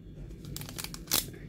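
A sachet of Sweetal diet sweetener is torn open up close: soft papery crinkling leads into one sharp, brief rip near the end, all fairly quiet.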